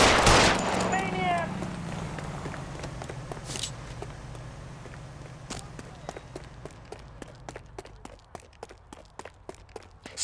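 Gunfire from the video game L.A. Noire: a burst of shots up front, then a long run of sharp, evenly spaced single cracks of moderate loudness over a low steady hum, with a voice briefly heard early on.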